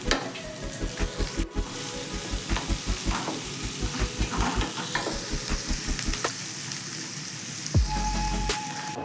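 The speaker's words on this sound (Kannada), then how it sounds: "ಈರುಳ್ಳಿ ಸ್ವಲ್ಪ ಬ್ರೌನ್ ಆಗೋತಂತ ಫ್ರೈ ಮಾಡ್ಕೋಬೇಕು." Onions fry with turmeric in a pan for palak dal, giving a steady close sizzle while a spoon stirs them in repeated rhythmic scrapes and knocks, with no talk.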